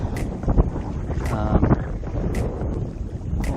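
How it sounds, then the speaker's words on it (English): Wind blowing steadily at around 10 to 15 mph while pedaling a NuCanoe Pursuit kayak on open water; close, continuous rumbling buffets across the microphone with faint water and hull noises underneath and no talking. "I told you the wind was going to come up today, and it's blowing probably a steady 10, 15."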